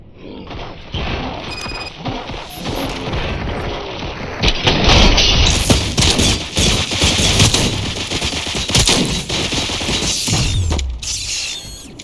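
Gunfire in the RoboCop: Rogue City video game, loud rapid bursts and booms with mechanical clanks over a dense, chaotic battle din that builds and keeps going.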